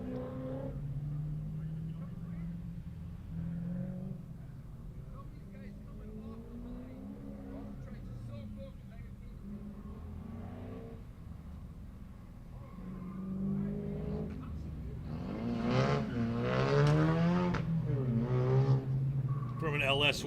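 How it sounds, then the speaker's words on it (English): Mazda MX-5 race car on an autocross course, engine droning and rising in pitch through repeated accelerations, growing louder toward the end, with a commentator speaking over it throughout. "Connor comes across the line of that Mazda MX-534"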